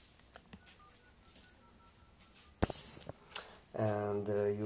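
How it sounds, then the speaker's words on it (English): Phone dialing tones sound as a call is placed from an app, short beeps and tones near the end, with a voice speaking alongside them. "Now I'm calling my phone again."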